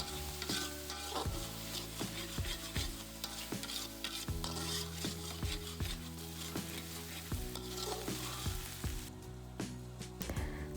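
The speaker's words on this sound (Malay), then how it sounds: "Kacau sehingga dia pecah minyak." Steady sizzling of ground chili paste frying in oil in a wok, with repeated scraping and clanking of a spatula stirring throughout, fairly close and continuous.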